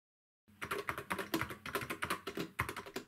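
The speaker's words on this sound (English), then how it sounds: "The keys are well made and feel really solid, and make a great sound when in use." Keys on a ZX Spectrum computer keyboard are typed in a steady, close run of crisp clicks and clacks, starting after a brief silence, with no voices.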